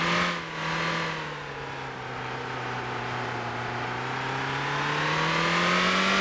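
A small go-kart in the MotorTown racing game, fitted with racing tyres and stiffened suspension, hums with a steady, close engine drone whose pitch dips slightly and then slowly rises as it drives along.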